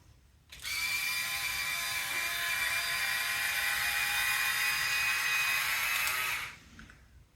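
An InStyler rotating hair styling iron whirs steadily for about six seconds as its barrel turns through hair at the roots, a close, even mechanical hum with a slight ratcheting edge, then cuts off.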